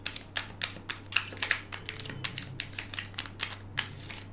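Rapid, irregular papery clicks and riffles of tarot cards being shuffled, close by, with a steady low hum underneath and no voices.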